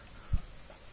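Rain in The Forest survival video game, a faint steady hiss with one soft low thump partway through, no voices.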